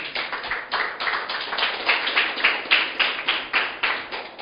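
A church congregation clapping during a Spanish-language sermon, a brisk, rhythmic beat of many hands in regular pulses, fairly close and continuous.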